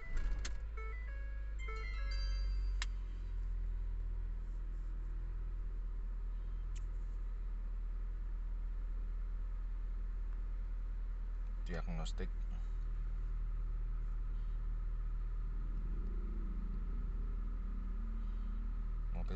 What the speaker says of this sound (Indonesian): Sekarang nyalakan mesin.